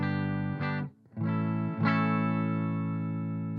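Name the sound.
clean electric guitar tone, ESP LTD guitar with humbuckers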